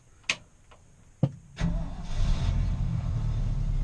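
An old Ford car engine cranks over briefly after a couple of clicks, catches and settles into a steady, close, rumbling idle with no talk.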